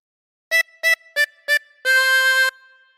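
A tremolo harmonica plays a phrase of Old McDonald Had a Farm: four short, evenly spaced blown notes followed by one long sustained note, clear and close with no voices.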